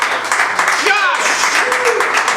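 A crowd at an improv comedy performance claps for a cast member, steady rapid applause with a shouted cheer and a few voices on top, loud and sustained for the short stretch.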